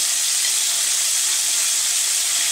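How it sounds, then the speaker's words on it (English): Butter melting and sizzling in a hot oiled pan alongside pork chops, a steady bright hiss that runs without a break at close range, with no talk over it. "Now I'm going to dump my knobs of butter in, as Gordon Ramsay calls them"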